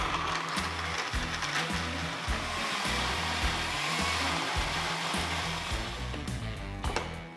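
A blender grinds a wet spice paste of candlenut, turmeric, ginger and large red chili with water, a loud continuous motor whine with churning, pulsing chops throughout.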